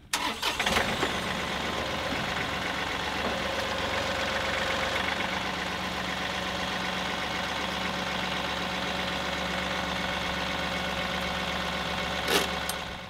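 A tractor engine runs steadily as the tractor pulls forward to park a trailer for a tongue weight check. The close, continuous mid-pitched drone has a firm low hum and a brief clunk near the start and near the end.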